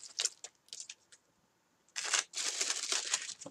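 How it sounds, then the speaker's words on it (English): A metal chain for a steampunk craft is handled close by, giving scattered clinks and jingles at first, then a denser rattling, pouring clatter in the second half, with no talking. "So I'm going to take this chain"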